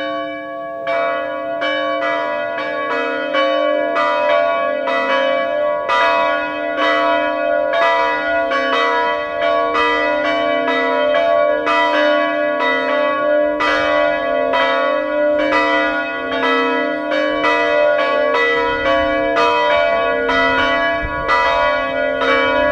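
Church bells ring continuously at a commemoration in Dunabogdány, a steady rhythmic peal of overlapping strikes that carries on for over twenty seconds, loud and with no voices.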